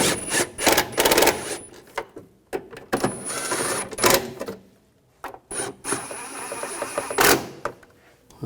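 Bolts being tightened on a brake master cylinder of a 2013-2019 Ford Escape, with a loud run of quick ratcheting clicks and clattering tool bursts in several spurts separated by short pauses, close up and with no talking.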